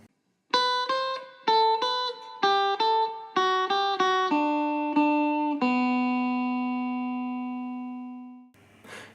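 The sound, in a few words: guitar playing a song's intro section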